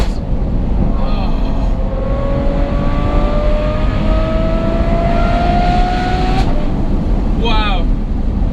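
A Novitec N-Largo kitted Ferrari F12 Berlinetta V12 exhaust drones loud and steady, its pitch slowly climbing under a constant engine roar, with a faint whistling sweep near the end.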